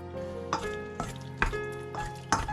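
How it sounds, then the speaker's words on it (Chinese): Shredded pork being mixed in a covered bowl with potato starch and rapeseed oil, heard as rhythmic stirring strokes, roughly one every half second, each a brief wet scrape over a low background hum. "搅拌均匀"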